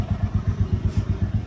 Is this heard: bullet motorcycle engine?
yes